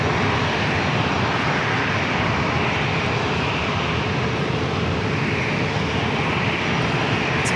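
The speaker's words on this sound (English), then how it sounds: "Next arrival is Southwest Airlines Flight 760 committed from Phoenix at 737-800" A Southwest Airlines Boeing 737-800 on flight 760 from Phoenix arrives at San Diego airport, its engines producing a loud, constant broadband roar that holds steady throughout.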